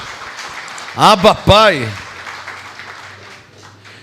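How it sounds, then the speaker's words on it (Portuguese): A church congregation claps in praise during a Portuguese-language worship service, a steady wash of applause running beneath a loud voice calling out. "E palmas ao Senhor"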